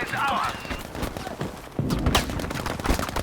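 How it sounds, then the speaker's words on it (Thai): A burst of rapid gunfire from an M1928A1 Thompson submachine gun in Battlefield V crackles in quick succession, with a person talking and sounds of movement around it. "มีคนยิงปืน"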